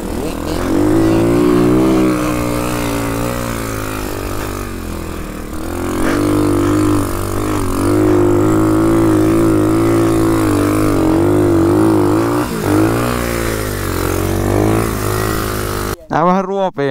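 A YCF 125cc pit bike rides across soft ground, its engine droning close and loud throughout with rising and falling revs as it labours, cutting off abruptly near the end.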